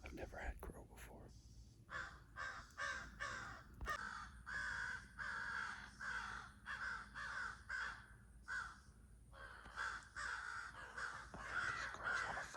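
Several crows caw in repeated harsh bursts, loud and close, forming a steady rhythmic series over roughly ten seconds with faint background noise between calls.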